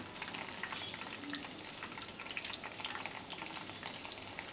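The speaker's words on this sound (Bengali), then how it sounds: "এইভাবে আমি ফ্রাই করতে থাকব" Mung dal fries in bubbling oil, a dense continuous crackle and sizzle that holds steady and close for the whole stretch, with no voices over it.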